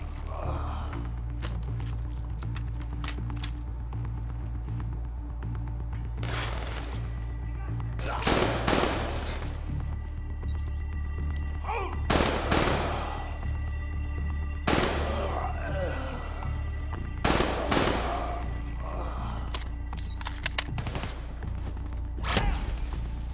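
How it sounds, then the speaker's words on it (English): Gunfire in Call of Duty Black Ops 3 cracks out in separate bursts every few seconds over a steady low hum of background ambience, each volley sharp and fairly close, with no voices. "We're under fire!"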